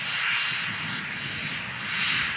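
A business jet on approach into Manchester Airport, a steady broad engine roar holding loud and even throughout, swelling slightly at the start and end, with no voices.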